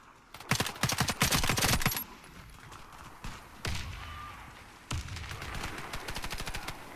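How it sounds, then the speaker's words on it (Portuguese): Imbel IA2 rifle bursts in the video game Warface, sharp rapid automatic volleys in several clusters separated by short quiet gaps, with no talk. "Vamos ver como é que vai funcionar os tiros na cabeça"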